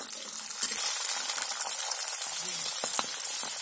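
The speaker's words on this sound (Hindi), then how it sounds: "मैं हरा मटर डाल के फ्राई कर ले रही हूँ अच्छे से" Green peas frying in a hot spiced tempering for aloo baigan palak saag sizzle and crackle steadily up close, with a few sharp pops and no voices.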